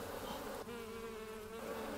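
Honey bees in an apiary colony give a steady, close, continuous buzzing hum, with no voices.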